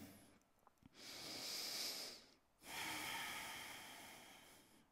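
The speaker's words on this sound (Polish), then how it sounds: "Zróbmy jeszcze dwa spokojne oddechy." Calm, deep breathing during a floor exercise, heard as two long, airy breaths, a slow inhale and then an exhale, close and soft with a brief pause between them.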